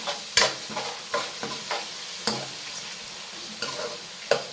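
Mustard seeds being stirred in a hot oiled pan while cooking a home recipe, giving a steady crackling sizzle broken by repeated scraping strokes of the spoon, close and moderately loud, with no talking.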